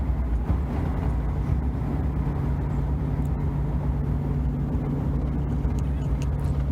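Inside a car cruising along a prairie road, a steady low engine and road rumble drones on evenly with no voices.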